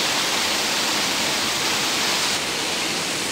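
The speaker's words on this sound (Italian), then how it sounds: "E qua si vede la cascata." A waterfall on a tropical outing roars as a constant, dense broadband rush, loud and unbroken throughout, with no voices.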